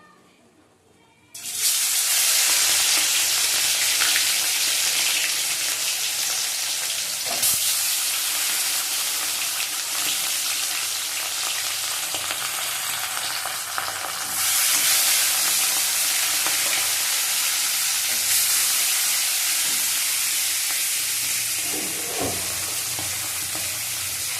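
Four pieces of hilsa fish fry in hot oil in a wok, a loud, dense sizzle bursting in right after a quiet start and hissing continuously for the rest of the stretch with slight swells.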